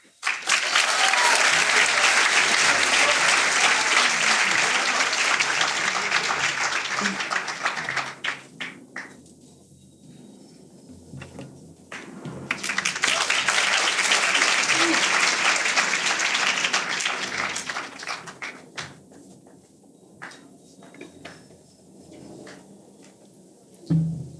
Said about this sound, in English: Let's give a huge round of applause for our graduates.